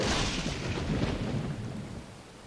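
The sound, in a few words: thunderstorm in the video game Dawn of Man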